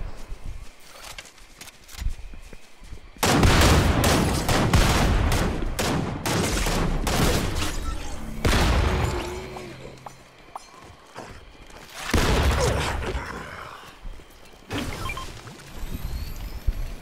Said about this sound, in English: There's fighting in the town.